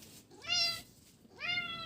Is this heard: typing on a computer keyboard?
no